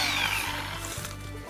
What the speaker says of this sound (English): a cheap little hand Harbor Freight chainsaw that just handy